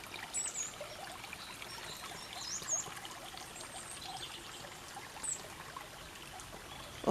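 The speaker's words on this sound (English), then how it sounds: "Always ensuring that the water is flowing" Rain-swollen stream water flows and trickles steadily after a storm, a continuous close wash with faint bird chirps over it and no voices.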